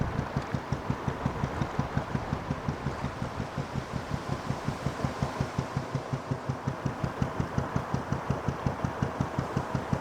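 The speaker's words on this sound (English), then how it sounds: "he said he liked the rhythm of Aslan's engine" Narrowboat Aslan's engine running on the Lancaster Canal, a steady thumping idle with an even, drum-like beat repeating quickly throughout, close and continuous with no voices.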